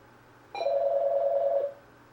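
A single steady telephone ring tone sounds for about a second, loud and close, as a call comes in during a live radio call-in show, with quiet room tone before and after.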